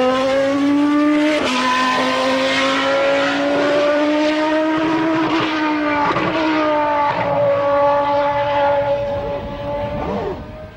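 A Williams FW14 Formula One car drives on a wet track, its high engine note rising and dropping through gear changes, loud and close, with a rougher burst of revving midway and fading slightly at the end.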